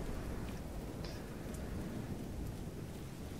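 Steady rain and distant thunder rumble in the video game The Division 2, a dense, continuous wash of falling water with low rolling booms, loud and unbroken across the scene.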